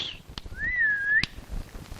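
A person whistles one clear, sustained, slightly wavering note, bracketed by sharp clicks, in a quiet room.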